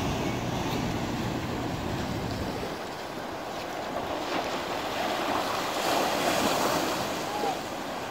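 Ocean waves and wind on the Hawaiian coast, heard from a high floor, a continuous broadband wash of surf with steady wind rumble on the microphone, moderately loud and unbroken for several seconds.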